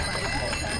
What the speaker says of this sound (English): I love the bells, thank you.